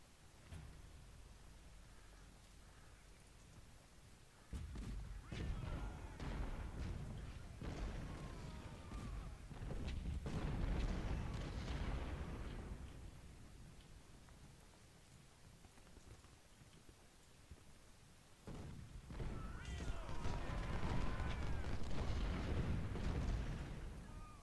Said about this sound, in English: So I want all my long-range artillery always firing on these guys.